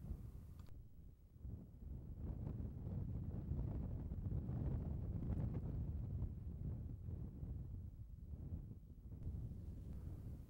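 Gusty wind buffets an outdoor microphone on open tundra during a caribou hunt, a low rumbling roar that rises and falls steadily throughout with no voices.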